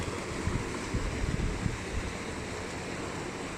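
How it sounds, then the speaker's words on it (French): Waves from a shuttle boat's wake wash steadily at a work site on the Culatra lagoon near Olhão, a continuous close, broad rush of water with no talking. "Les vagues de la navette."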